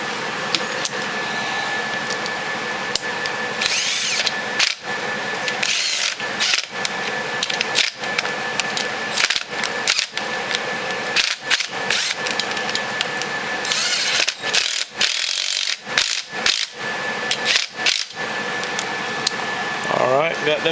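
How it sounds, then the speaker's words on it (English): An impact driver or drill runs two 8mm headed bolts into a Kawasaki Brute Force ATV motor during reassembly, giving repeated short bursts of mechanical whirring and rattling, close and loud, with broadband noise between bursts. "So run those two 8mm headed bolts down."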